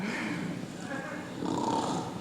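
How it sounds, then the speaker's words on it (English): Rough, raspy snoring breaths from an actor on stage in a school production of Into the Woods fill the clip, loud and close, with a steady grinding rhythm and a slight swell toward the end. "That grandmother has a mighty snore."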